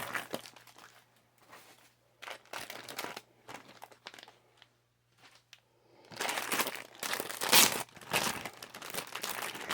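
Sheets of assorted paper crinkle and rustle as they are handled, in close, irregular bursts with short quiet gaps, growing louder and denser toward the end, with no talking.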